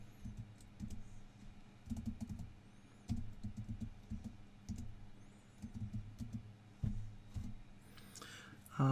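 Numbers are typed on a calculator or keyboard in quiet, close, irregular bursts of light tapping clicks with short pauses between.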